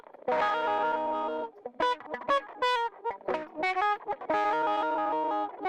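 A guitar runs through a wah-wah effect rack with drive in Ableton Live 12, its gritty distorted chords and single notes sweeping in tone, with a mix of choppy bursts and longer sustained phrases.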